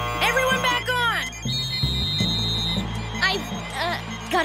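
A cartoon basketball game buzzer sounds as a sustained, high electronic tone lasting just over a second, surrounded by animated characters' voices and background music.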